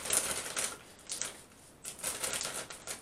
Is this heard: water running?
no